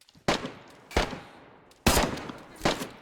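Gunfire in the game DayZ: four sharp, loud shots spaced about a second apart, each with a brief echoing tail. No voices.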